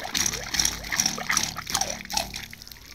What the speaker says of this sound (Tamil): இந்த மாதிரி தண்ணி வருது